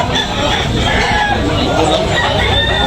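Roosters crow over steady clucking from a crowd of chickens at a chicken market in Tabunok, Cebu, with a dense, busy background and faint human chatter.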